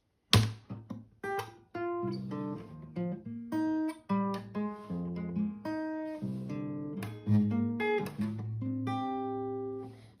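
A guitar picks out a short melodic riff from a song, individual notes plucked clearly one after another at a moderate pace, solo and fairly quiet.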